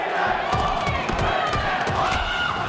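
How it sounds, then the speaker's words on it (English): FaZe Clan fans roar and chant at an esports grand final, with a dense, loud crowd and rhythmic shouting filling the arena continuously. "Another chant coming through from the FaZe crowd"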